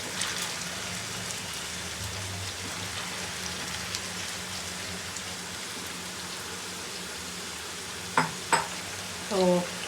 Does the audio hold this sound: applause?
no